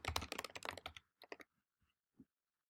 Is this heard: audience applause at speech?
no